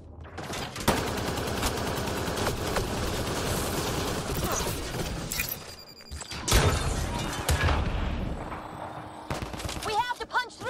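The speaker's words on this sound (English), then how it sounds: "Drac, Don't worry, I'll shoot whatever needs shooting." Sustained automatic gunfire and heavy impacts in a Mass Effect: Andromeda battle, loud and continuous for most of the clip, with a brief dip and then more bursts, and voices mixed in under the shooting.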